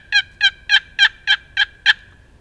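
A wooden turkey box call yelping, cupped in the hand to soften it: seven evenly spaced, bright raspy notes in a steady rhythm, fairly loud and close, then silence.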